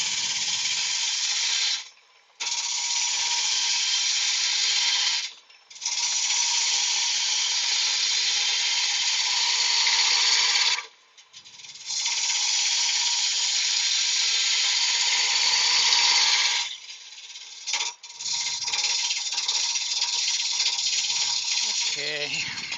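Close, loud broadband whir and rattle of a wood lathe spinning a larch vase blank up to about 1,000 RPM, running in long steady stretches broken by brief pauses, with no talk over it.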